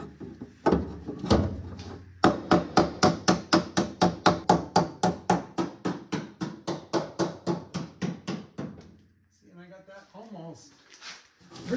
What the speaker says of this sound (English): Hammer and dolly. This is my dolly.